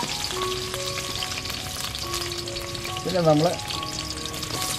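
Garlic and ginger sizzle in hot oil in a home kitchen as the first step of chilli chicken, a steady loud frying hiss throughout, while someone talks over it.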